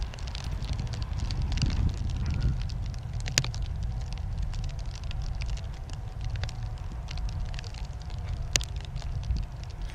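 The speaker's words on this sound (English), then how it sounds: "The crackling noise you can hear is rain." Rain falls during a weather balloon launch outdoors, a continuous crackling patter with occasional sharper ticks over low rumbling wind noise on the microphone, steady throughout with no talk.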